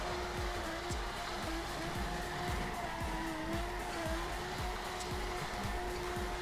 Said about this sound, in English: we're just gonna keep the drift alive